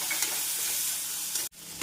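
Onion, garlic and tomato sizzling and frying in a pan with steady crackle, briefly interrupted by a spoon stirring.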